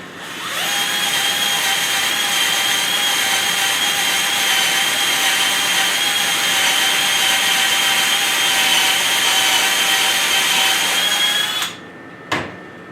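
A DeWalt cordless XR drill spins at its slowest speed setting, a steady high-pitched motor whine held for about eleven seconds before cutting off, followed by a brief click.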